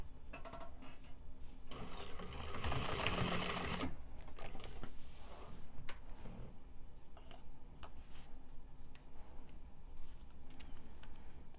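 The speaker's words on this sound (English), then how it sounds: "along the top here we're just going to do little tack stitches to hold that pocket in place" A sewing machine running tack stitches across the top of a bag pocket, a short burst of fast whirring stitching followed by quieter handling, rustling and clicks.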